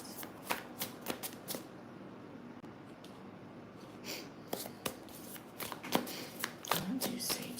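Tarot cards are shuffled by hand in a rapid run of crisp riffling snaps, loud and close, with short pauses between bursts and some breathy background noise.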